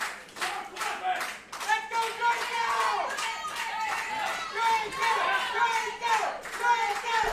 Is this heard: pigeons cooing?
no